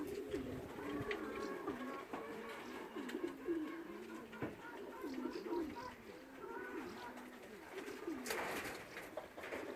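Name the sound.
racing pigeons cooing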